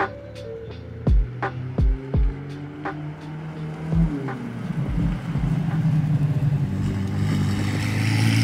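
A 2018 McLaren 720S with a tuned exhaust revs hard: several sharp, quick blips stand out up close, then the engine climbs into a sustained, rising howl toward the rev limit.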